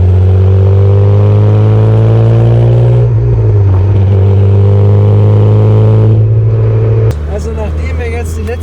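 A 1970 Maserati Mistral Spyder 4000 accelerates hard, its engine note climbing through rising harmonics, dipping at two gear changes and then pulling again, loud and close throughout.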